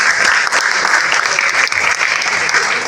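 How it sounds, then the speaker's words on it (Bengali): An audience at a live gathering claps in thanks, a dense, loud, continuous wash of applause close at hand for the whole stretch. "আমি আমার গর্ভধারিণী মা এবং আমার শ্রদ্ধাভাজন বাবার জন্য একটা করতালি চাচ্ছি আপনাদের থেকে"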